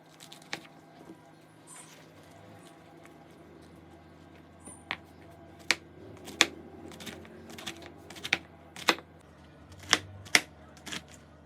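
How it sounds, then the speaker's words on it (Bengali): A knife chops taro flowers, leaves and stalks finely on a board, giving a string of crisp, irregular taps that grow busier and louder toward the end, close and alone without talk. "কচু ফুল সহ পাতা, ডাঁটা সব খুব ভালোভাবে কুচি কুচি করে কেটে নেব"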